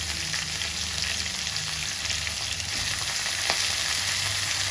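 Brinjals and onions frying in a pan, a steady dense sizzle running throughout at even loudness, close and alone without talk.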